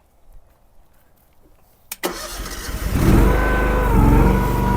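A DRT 450 gas-powered mini skid steer starts with a sharp crank after quiet, then its small engine catches and settles into a loud, steady, rough running drone close by.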